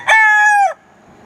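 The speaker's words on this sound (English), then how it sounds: "that's our young rooster, and he just makes a lot of noise all the time" A young rooster gives one loud, close crow, a sustained harmonic call lasting about half a second before cutting off.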